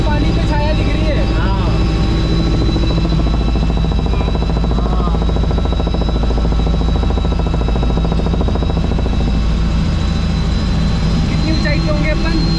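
A helicopter flies over open water, its engine and rotor making a loud, steady drone that runs unbroken throughout, with voices talking over it.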